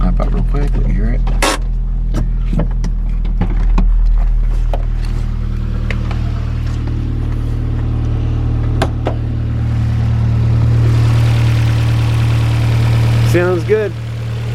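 A 1988 Toyota MR-2 with a factory supercharged, intercooled engine idling steadily, a loud even hum with little whine, mixed with clicks and handling noises and a brief rise near the end.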